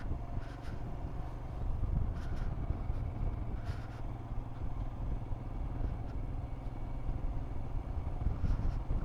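Motorbike engine running steadily while riding alone on the mountain road from Changu Lake toward Nathula Pass in Sikkim, a continuous loud low drone with wind rush and occasional clatter, no talk.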